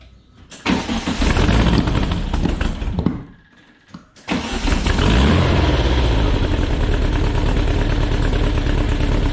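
A 1961 VW Beetle engine is started cold: it catches with a loud, close, rough roar, stumbles and nearly dies for about a second, then fires again and keeps running hard and steady to the end.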